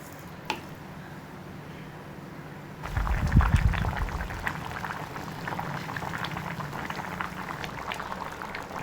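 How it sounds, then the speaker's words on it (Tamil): Vegetables simmering in water in a covered pot for sambar, a soft bubbling boil with gentle irregular pops rising after a brief lid clatter, low and close. "காய் வேகிறதுக்கு தேவையான தண்ணி ஊற்றி ஒரு மூடி போட்டு மூடிடலாம். ஒரு 10 நிமிஷம் காய் வேகட்டும்."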